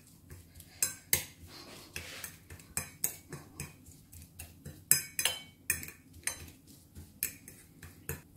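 A spoon stirs a seasoned stuffing mixture in a pot for an eggplant chicken tajine, making a steady series of close, sharp metallic clinks and scrapes in a quiet kitchen.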